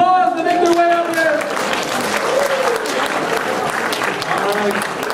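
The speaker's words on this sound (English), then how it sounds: "All right, give them a round of applause" An audience at a church Christmas drama applauds volunteers, sustained loud clapping mixed with cheers and a few voices calling out over it.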